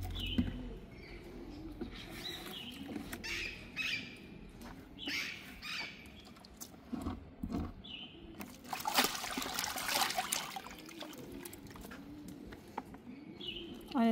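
Homemade curd cheese being rinsed with water in a kitchen, with trickling and splashing water rising and falling throughout and a brief louder burst of pouring near the middle; faint background sounds accompany it.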